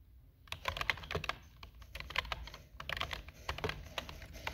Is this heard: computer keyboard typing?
yes